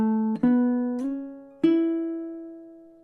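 Baritone ukulele notes picked one at a time, a few plucks ringing out and slowly decaying in a sparse, unhurried riff, clean and close with no voices.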